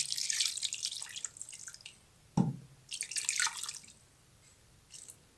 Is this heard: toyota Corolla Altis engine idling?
no